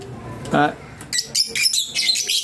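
Lutino Opaline and green Fischer's lovebirds in an aviary chirp in quick, bright bursts that grow busier in the second half, with a brief voice heard near the start.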